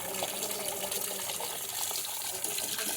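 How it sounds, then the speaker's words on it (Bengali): Water from washed flour dough pours through a strainer in a steady, rushing gush, close and fairly loud, with no voices. "ছাঁকনির মধ্যে নিয়ে আমি জলটা জড়িয়ে নিচ্ছি"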